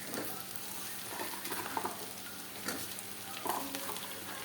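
Potatoes added to browned onions and asafoetida frying in a pan for kadhi, a steady, fairly quiet sizzle with a few clinks and scrapes of stirring, alone without talk.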